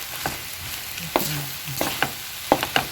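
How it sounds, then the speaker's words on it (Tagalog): Food frying in a pan is stirred, with a steady sizzle under scattered scraping clicks and knocks of the utensil against the pan. "Haluin nyo lang maigi"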